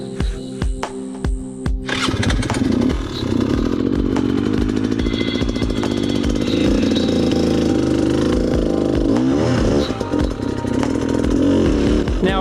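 An enduro dirt bike engine revs hard on a slippery, low-traction run-up, starting with a few sputtering pops before rising into loud, continuous, fluctuating revving up close.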